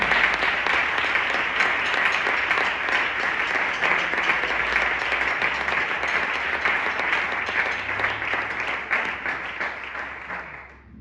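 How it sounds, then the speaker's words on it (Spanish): A church congregation bursts into sustained, dense applause that fills the room evenly for about ten seconds, then fades at the end, with no speech over it. "El mejor aplauso que tengas, dáselo para él."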